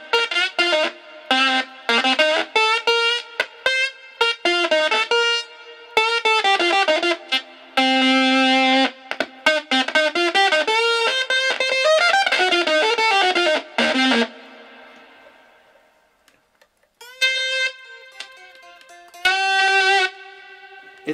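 Heavily processed, distorted bass tones from a synthesizer-like bass effect pedal through a Fender Musicmaster bass amp, thick and synth-like, playing choppy melodic phrases. A brief quiet gap comes before a few final notes.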